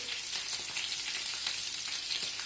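Potatoes fry in a pan with a constant bright, hissing sizzle and soft crackles, fairly quiet and steady over a short stretch with nobody speaking.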